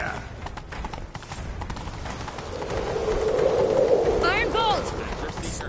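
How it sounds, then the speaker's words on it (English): Horse hooves clip-clopping at a galloping pace in the Witcher 3 video game, rhythmic hoofbeats under game ambience, with voices and shouting over them. "Grab a horse, we'll chase him down."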